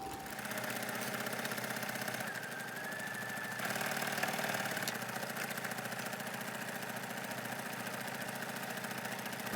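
A sewing machine stitches a seam in a steady, even mechanical whir with fine rapid ticking, running continuously at moderate volume with a slight shift in pitch partway through.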